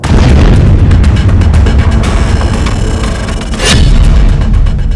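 A loud, sustained rumbling nuclear bomb blast with a crackling burst partway through, dense and roaring throughout.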